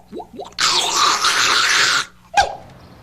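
A person vocally imitates a malfunctioning home washing machine: a few short grunts, then a long, loud, harsh hissing roar lasting over a second, and a final abrupt guttural burst.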